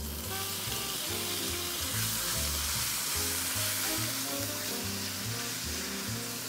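Garlic and ground pork sizzling in a hot pan, with a loud, continuous frying hiss and a low repeating thump or rumble beneath it, heard close up with no talking.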